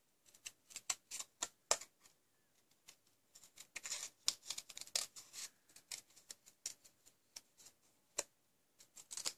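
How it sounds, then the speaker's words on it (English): Scissors snip through paper, cutting out leaf shapes for a Birthday Blooms greeting card; a steady run of close, crisp cuts in uneven bursts, alone with no talk. "Let me cut my leaves out first."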